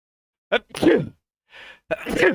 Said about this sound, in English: Just sneeze right into the microphone.